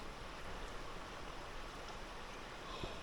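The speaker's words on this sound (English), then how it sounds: "Can we hear the creek?" A creek flows beside a historic mill in a steady, faint, far-off rushing wash that stays even and unbroken throughout.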